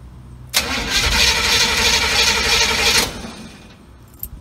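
A car engine cranks and catches after the key is turned during a custom fuse panel install, roaring loudly for about two and a half seconds before dropping away to a faint idle, with no speech.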